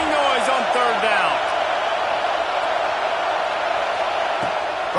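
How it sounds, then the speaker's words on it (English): A stadium crowd roars in NCAA Football 26 during a game against Georgia, a dense, steady wall of cheering with a few whoops rising above it. "This dog crowd is off the leash, and they are coming after them, bringing noise on third down."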